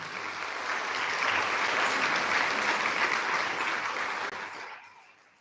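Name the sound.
audience applause for Kathak dancers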